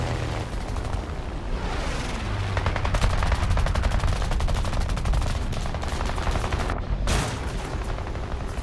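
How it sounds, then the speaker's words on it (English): Twin .30 and .50 caliber turret machine guns on a French PBY-5A Late flying boat in War Thunder rattle in dense, continuous bursts over steady engine drone, loud and close, with a brief pause near the end before firing resumes. "That 50 cal should have done a lot more damage, and he's not even shooting at this point"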